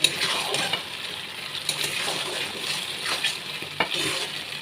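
Ash gourd koftas being stirred in a thickened chilli sauce in a pan, a steady close sizzle with repeated scraping strokes and light clinks, no voices.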